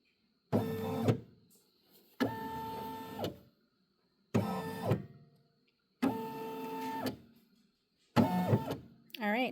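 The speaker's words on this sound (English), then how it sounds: "I have the option here of checking the perimeter of where it's going to be embroidered" Brother PE800 embroidery machine tracing the perimeter of the embroidery area, five separate whirring motor bursts with short pauses between them, fairly close and alone.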